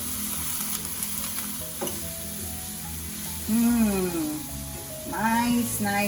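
Grated garlic and green chilies sizzle and fry steadily in hot oil in a pan for an Indian vegetable dish, with a continuous hiss under a voice talking.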